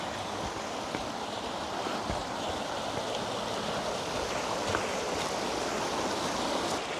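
Oak Creek in Sedona, Arizona flows with a steady, broad rushing wash of water, constant and fairly close, with no voices over it.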